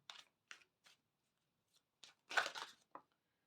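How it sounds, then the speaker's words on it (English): Oracle cards being shuffled by hand in quiet, short papery bursts with pauses between them, ending in a longer flurry of riffling, close and soft. "you see me shuffle the cards"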